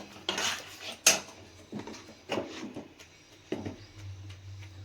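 Utensil clatter against a pan while boiled cabbage and tomato are stirred, several sharp scraping knocks at irregular intervals over quiet background, ending in a low hum.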